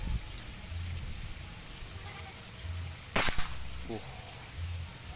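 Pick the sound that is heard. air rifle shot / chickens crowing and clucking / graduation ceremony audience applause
air rifle shot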